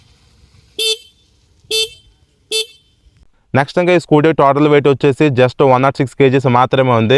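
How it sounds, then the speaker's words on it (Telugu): Three short, loud honks from a 2026 Honda Activa 110 standard scooter horn, evenly spaced and close up, followed by someone talking. "ఇంకా ఈ స్కూటీలో హార్న్ సౌండ్ వినడానికి ఎలా ఉంటుంది"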